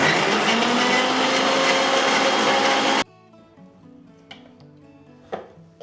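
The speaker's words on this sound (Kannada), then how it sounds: "ಒಂದು ಸ್ವಲ್ಪ ಲೈಟಾಗಿ ಬಿಸಿ ಇರೋ ಒಂದು ಸ್ವಲ್ಪ ನೀರು ಹಾಕ್ಕೊಂಡು ಇದನ್ನ ಮಿಕ್ಸಿ ಮಾಡ್ಕೊಳ್ಳೋಣ" A mixer grinder blends soaked ingredients with a little warm water: a loud, steady whir for about three seconds, then it cuts off and leaves faint clinks and light knocks.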